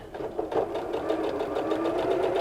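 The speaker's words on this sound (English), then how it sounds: "just keep sewing along" A sewing machine runs steadily while stitching a Christmas stocking, its motor whirring in a continuous, close buzz for the whole stretch with no talk over it.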